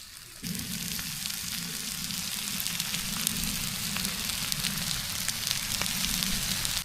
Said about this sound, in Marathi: हे बघा, हे मासे लगेच शिजायला लागले सगळीकडनं